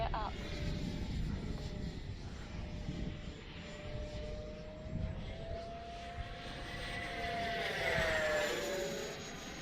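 An FMS Viper 70mm radio-controlled jet flies with its afterburner lit, a continuous loud roar with a rising and falling whine as it passes during a speed trial.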